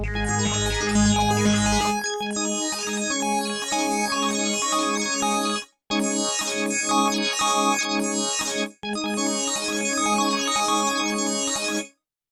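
A bright, shimmering Waldorf Blofeld synthesizer chord with chorus sounds in repeated stabs, the notes entering staggered rather than together, with brief gaps between phrases.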